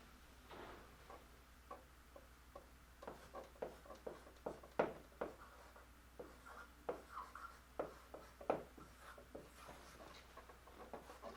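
Pen writing on paper, a run of short scratchy strokes and taps in an irregular rhythm, close and fairly quiet with no talking.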